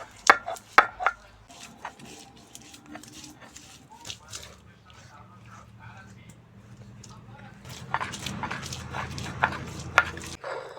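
Onion, green chillies, garlic and ginger are ground into a spice paste, producing irregular knocking and scraping strokes that are sparse at first and grow busier and louder near the end.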